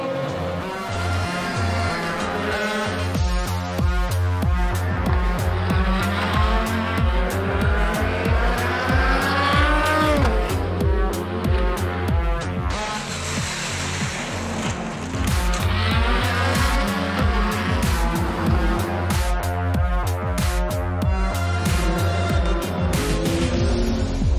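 Corvette GT race car running at the 2022 Le Mans 24 Hours, a loud, continuous engine roar with rhythmic gear changes and rising and falling revs, steady and close throughout.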